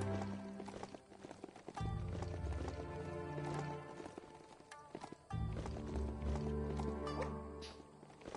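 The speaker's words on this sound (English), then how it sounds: "The black horse. Look at this." Black horse hooves clip-clopping in quick, repeated strikes, loud and close over a low background hum, with a brief pause midway before the steps resume.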